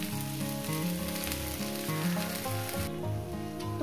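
Okra and egg bhaji fries in a pan with a steady, close sizzle that runs the whole way through, partly masked by sustained musical tones in the background.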